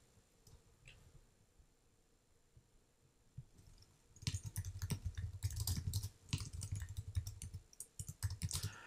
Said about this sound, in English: Make sure I'm typing up the right information